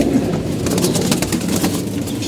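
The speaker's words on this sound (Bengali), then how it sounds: "আর এদিকে আমাদের কবুতরগুলো" Domestic pigeons cooing nearby, a continuous low throaty burble of several birds overlapping, loud and close with no talk.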